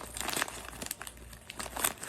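Scissors snipping and cutting into a mailed package's wrapping, with close-up crinkling and tearing of the material in short irregular bursts across the moment.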